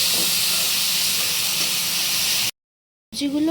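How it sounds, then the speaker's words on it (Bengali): Mixed vegetables fry in hot refined white oil in a wok, giving a loud, steady, close hiss that cuts off abruptly. "যখন গরম হয়ে যাবে তখন আমরা এই মেশানো সবজিগুলো দিয়ে দেবো"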